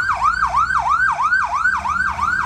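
Ambulance siren near a robbed jewelry store in Progreso, a loud, close wailing tone sweeping up and down in rapid repeated cycles, about six per two and a half seconds, over faint traffic rumble.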